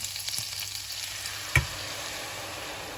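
Cream for Alfredo sauce bubbles and sizzles in a pan, a steady soft frying hiss with one brief knock midway.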